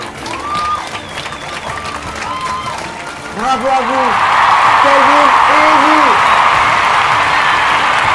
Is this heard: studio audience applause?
yes